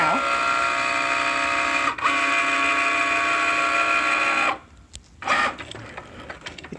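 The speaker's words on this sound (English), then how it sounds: "So it's drawing the face and the whiskers." A Cricut cutting machine draws a mouse face and whiskers with a pen, giving a steady mechanical whir and buzz that runs continuously, then cuts off sharply and gives way to scattered clicks and movement.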